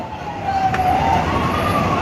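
A fire truck siren wails steadily at a fire in Western Bicutan, Taguig, loud and fairly close, with a rising and falling tone over traffic rumble.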